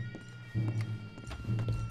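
Two horses approach in the video game Red Dead Redemption 2, their hooves clip-clopping in quick uneven bursts over a low rumbling background.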